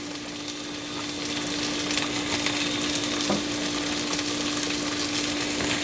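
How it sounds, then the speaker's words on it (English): Zucchini sizzling and stirring in a pot of vegan vegetable soup with partly cooked vegetables, a steady moderate frying hiss under a constant low hum, with no talk. "So I'm gonna go ahead and throw in the zucchini."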